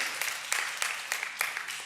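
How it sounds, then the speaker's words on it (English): A church congregation claps together in a brief burst of applause, a quick scattered patter of hands at moderate distance, fairly soft, with a voice faintly underneath. "let's applaud for everybody"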